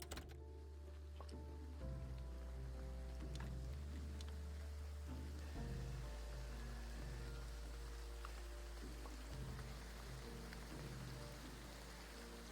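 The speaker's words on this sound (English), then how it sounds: "I love the rain sound on this." Steady rain patters in the Graveyard Keeper farming game, a soft continuous hiss that lasts throughout, with low tonal game music and occasional chimes underneath and no voices.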